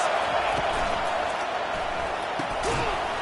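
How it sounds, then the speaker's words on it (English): A packed stadium crowd roars continuously at a college football game between UNC and FSU, a dense, loud wash of cheering and noise filling the space with occasional sharper bursts. "Listen to this crowd just shaking the girders of this place, trying to help their defense."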